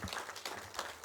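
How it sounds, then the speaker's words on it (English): Audience applause at an official civil aviation ceremony, a brief burst of many hands clapping together, fairly even and moderately loud for about a second. "Let's put our hands together and thank Mr. P. A. Jayakanta for all the great work done"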